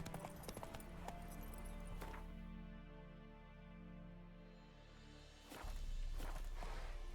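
Roach the horse galloping in The Witcher 3, hoofbeats loud and close at first, fading to a sustained whooshing blur of motion, then thudding back in strongly near the end.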